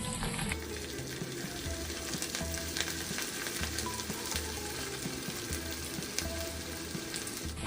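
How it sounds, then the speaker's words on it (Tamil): Prawns frying in hot oil for crispy Prawn 65, a continuous bright crackling sizzle with a low steady hum beneath, no talking. "இப்போ நம்ம ஒன்று ஒன்றா எண்ணெயில் இறால் சிக்ஸ்டி ஃபைவாக பொறிச்சு எடுத்துருவோம்"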